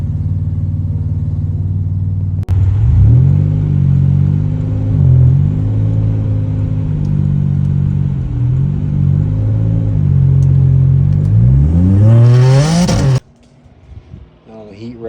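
Turbocharged 3.6-litre LFX V6 in a Cadillac CTS project car idling steadily and loud with a low rumble, a brief rev building near the end before it cuts off, followed by quiet background sound.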